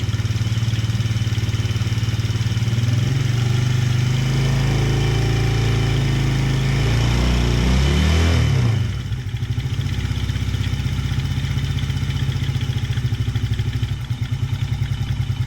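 TaoTao 125 motorcycle engine warming up on choke on a chilly day, a loud, close rumbling idle with a brief swell of throttle that drops back to a steady, slightly uneven putter, no talking.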